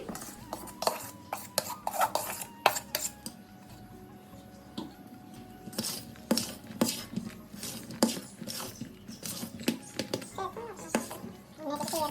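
Fermented dibba roti batter is mixed with salt, giving irregular close clicks and scrapes of a utensil against a bowl, with a voice talking intermittently over them.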